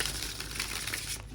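A short burst of Astromatrix Tarot cards being shuffled gives a close crinkling, papery riffle that cuts off abruptly.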